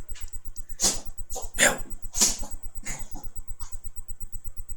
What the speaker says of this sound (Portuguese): Foi minha cachorrinha aqui.